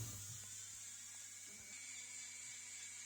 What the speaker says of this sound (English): we switch to Dremel rotary tool, which buffs the frets really nicely